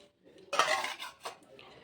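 A steel lid goes onto a steel pot of soaked peas with one short metallic clatter and scrape, then a lighter tap, close and quiet in a kitchen.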